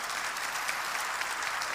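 Dense audience applause fills a church service, a steady broadband wash of many hands clapping at once, loud and continuous with no break and no voices over it.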